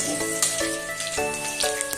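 Chopped garlic and green chili fry in a pan with a soft, continuous crackling sizzle, close and fairly quiet, and faint tonal hum underneath.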